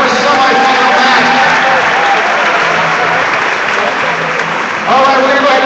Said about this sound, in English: round of applause for our first semifinal match